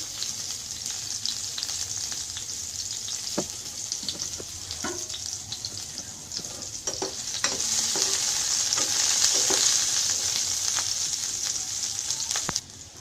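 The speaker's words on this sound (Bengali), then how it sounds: "পেঁয়াজগুলো লাল লাল করে ভেজে নেবেন।" Chopped onion frying in hot oil, a continuous close sizzle with occasional spoon taps and stirring scrapes, growing louder and more intense midway before cutting off near the end.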